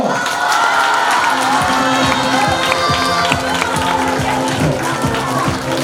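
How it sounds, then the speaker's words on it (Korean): Middle school students at a sports day opening ceremony applaud and cheer as a large crowd, a dense, loud, continuous wash of clapping and shouts with no break. "이제 박수를 제일 크게 쳐야 됩니다"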